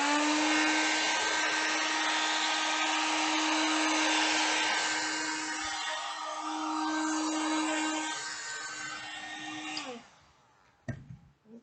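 Hair dryer drying paint on a painted mandala, a loud steady whine and airflow for about ten seconds before it switches off, followed by a few faint knocks.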